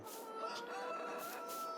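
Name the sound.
chickens clucking in Farming Simulator 22 video game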